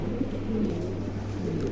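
Pigeons coo at a pigeon seller's stall, a few low, soft rounded calls close by over a steady background hum, with no talking.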